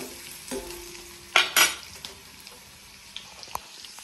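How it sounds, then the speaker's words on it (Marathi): Onion frying in a pan for a fenugreek leaf curry gives a steady low sizzle, broken by a few sharp scraping stirs and light clinks of a spoon against the pan. No one speaks. "चला आता कांदा जळतोय माझा, पटकन स्वयंपाक करते"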